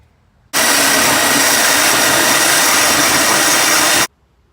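A drill whines at a steady high pitch for about three and a half seconds, boring holes in a metal plate, starting and stopping abruptly against quiet.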